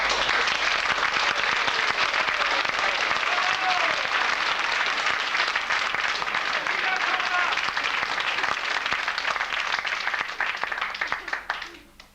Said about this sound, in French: nous avons un choriste qui mérite tout particulièrement nos applaudissements